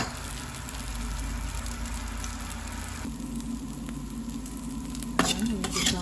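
Kikiam fish balls heating in a pan for pancit miki guisado give a continuous soft sizzle and stirring, with a louder bubbling splash near the end and no voices.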